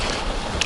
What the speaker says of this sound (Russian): Вот такой вот китайский моторчик